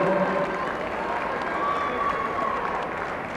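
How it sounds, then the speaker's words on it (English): Crowd applause fills a gymnasium at a high school girls' basketball game honoring a senior, a steady broadband wash of clapping that holds evenly for a few seconds with faint crowd murmur beneath. "Let's have a round of applause for Hope."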